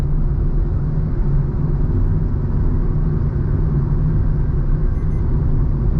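Fast traffic on a newly resurfaced highway between Murbad and Kalyan, heard as a loud, steady low rumble of engines and tyres with no break and no talking.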